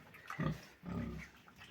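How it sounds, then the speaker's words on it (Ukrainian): Two low grunting snorts from pigs of around 120–140 kg, close by, with quiet rustling between them. "Отакі свині."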